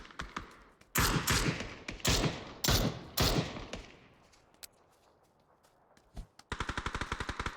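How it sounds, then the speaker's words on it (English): Frag grenade explosions and gunfire in a PUBG esports match: several loud, sharp blasts in quick succession with decaying rumble, then a rapid burst of automatic fire at the end. "That is quite the frag grenade."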